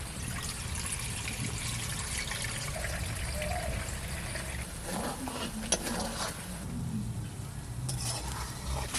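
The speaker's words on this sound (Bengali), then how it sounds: "চালটা ভিজে রাখছিলাম ভিজে গেছে এবার জলটা ফেলা দিচ্ছি" Water drains off soaked rice into a pot, a steady close trickle and pour with a few small metallic clinks from the vessel, no voices.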